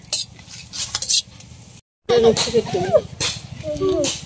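Dry red chillies crackle and sizzle in a hot pan as a spatula scrapes and stirs them. A voice talks over the frying in the second half, after a brief silent gap.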